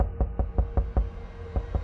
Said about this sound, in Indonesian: terbangun mendengar suara ketukan di pintu depan